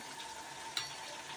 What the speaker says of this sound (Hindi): हमने कुकर के अंदर इसको बनाना है और हमने प्याज डाल के तो उसको ब्राउन करना शुरू कर दिया है।